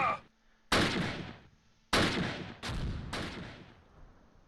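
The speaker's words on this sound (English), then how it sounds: "We know you're taking fire, so return. Return fire." Gunfire and mortar blasts from the Close Combat video game, set in Normandy in 1944: four loud, sharp explosive bursts arrive in quick succession, each with a long, rumbling decay.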